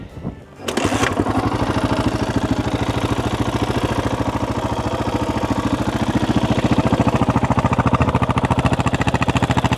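A 1987 Yamaha 600 XT single-cylinder motorcycle kicked over and catching at once, then idling loudly and close with a steady, fast thumping beat.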